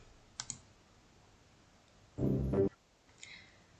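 A single mouse click on a Save button in a quiz-building web platform, a short dry tap heard alone in a quiet room, framed by a few faint softer clicks before and after.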